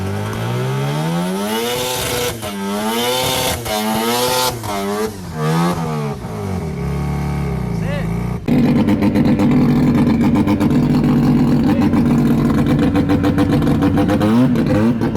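A car engine being tuned for a burnout revs up and down in repeated rising and falling sweeps, then holds a loud, sustained high-revving roar, close and dominant throughout.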